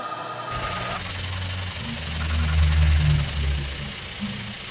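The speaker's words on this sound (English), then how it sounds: "We're going to sand those out here in a minute." Steady grinding rub of a power sander on the wooden headstock of a bass guitar neck over a low machine hum, continuous and fairly loud, swelling slightly midway with no talking.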